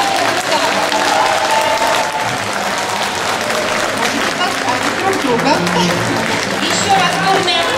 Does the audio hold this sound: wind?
no